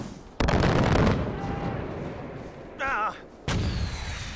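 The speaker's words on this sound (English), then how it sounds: "Stop shooting mortar rounds." Mortar rounds firing in Far Cry 4, heavy booming blasts at the start and again near the end with rumbling decay between, plus a short warbling electronic tone in the middle.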